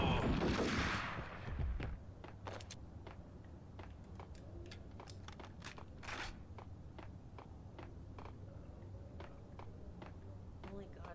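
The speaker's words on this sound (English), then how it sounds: "Where's the dude that's shooting at me?" Gunfire from the Max Payne video game, a loud burst at the start followed by a steady series of sharp, evenly spaced shots over a low background rumble.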